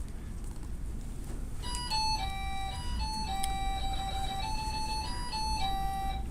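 A programmed electronic chip plays a simple song as a bright, beeping square-wave melody. It starts after a short pause, and its steady notes sound over a low background hum without talking.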